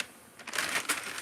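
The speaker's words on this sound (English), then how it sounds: "You hear that? That's the sound of paper." Dry paper packaging crinkles and crunches in a few bursts of rustling, close and fairly loud after a brief quiet start, with no voices.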